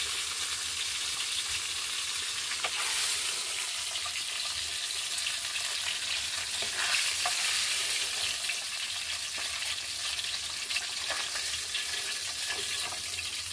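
Pieces of hilsa fish sizzling in hot oil in a pan as they are lifted out one by one, a steady, close, continuous frying hiss with small crackles and no talking.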